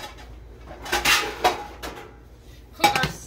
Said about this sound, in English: I'm gonna wash some dishes.